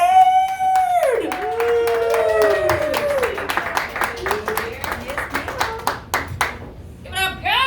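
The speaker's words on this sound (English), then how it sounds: "So please give a big round of applause" An audience claps in a burst of applause for a comedian at a stand-up comedy show, with a loud voice calling out over it as the clapping thins out.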